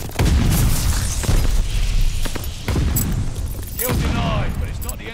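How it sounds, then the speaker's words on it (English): Grenade explosions in Call of Duty: Vanguard land in a rapid series of loud booms and bursts, with gunfire crackling among them over a few seconds. "Tossing grenade! Tossing stun grenade!"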